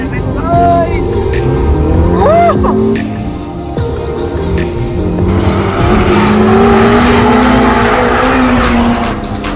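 A sports car drives hard at speed, its engine roaring loudly with repeated sharp tire squeals and skids, with a rising, sustained engine drone toward the end.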